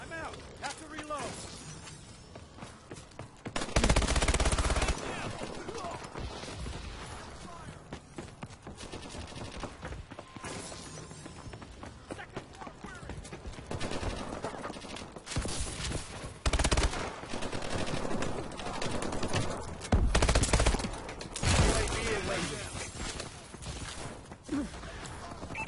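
Gunfire in the video game Call of Duty Advanced Warfare, loud rapid automatic bursts and repeated shots throughout, with heavier blasts at intervals and voices talking over the shooting.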